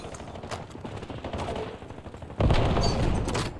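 Gunfire from a shotgun in a multiplayer shooter game, sharp bursts over a steady game backdrop, with a loud close blast near the end.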